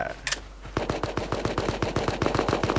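Rapid automatic gunfire in a video game: after a brief quiet start with a sharp click, a steady machine-gun stream of evenly spaced shots rattles on close and loud to the end.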